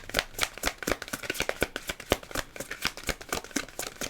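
Tarot cards from a hard-to-shuffle deck are shuffled in quick, rapid bursts of flicking and riffling, close up with no voices.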